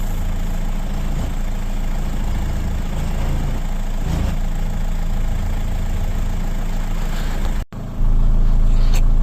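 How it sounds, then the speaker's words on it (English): A 2006 VW Jetta with a 6-speed DSG gearbox runs steadily up close, its loud, even engine drone continuing as the transmission cycles through the gears, then it cuts off abruptly near the end and a lower rumble follows. "Just cycling through the gears now."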